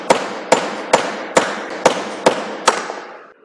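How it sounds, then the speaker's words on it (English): Hammer blows knocking through chain-drilled holes in a metal workpiece during bench fitting practice: six sharp, evenly spaced metallic strikes about half a second apart, loud and close, with a short ringing decay after each. "now hit this chain drilling holes"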